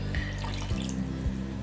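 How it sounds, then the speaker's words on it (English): Water pours into a pot of West African peanut soup, a continuous splashing stream with a couple of soft thumps, fairly close. "We're going to add in some more water"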